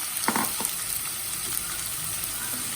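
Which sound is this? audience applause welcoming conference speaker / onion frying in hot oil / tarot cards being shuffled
onion frying in hot oil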